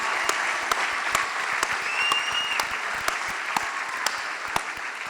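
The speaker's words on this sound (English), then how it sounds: "Can you give yourselves one more round of applause for all this excitement in this room?" A crowd in a room applauds at a high school graduation ceremony, a continuous wash of clapping punctuated by sharp individual claps and faint whistles, with no talk over it.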